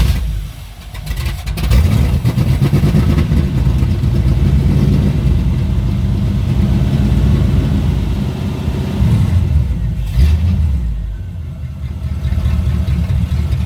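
A Pro Street Pontiac Trans Am V8 fires up with the choke on, then runs loud and close with rough rumbling idle and repeated revs that swell and drop, a slightly sluggish engine throughout.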